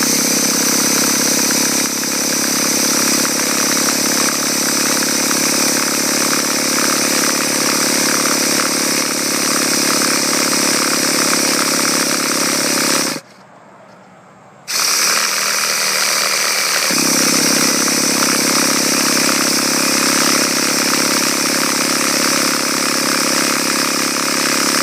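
Small gas engine of a Losi LST XXL 2 1/8-scale monster truck running, a loud buzzing two-stroke drone close by that cuts out briefly midway and then restarts at a steady idle.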